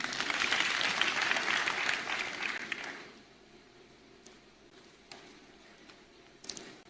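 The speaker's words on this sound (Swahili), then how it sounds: "Wapigie makofi wale." An audience at a political rally, a Safina party NDC event attended by DP Ruto, claps loudly in a dense burst for about three seconds, then dies down to a few scattered claps and low crowd murmur.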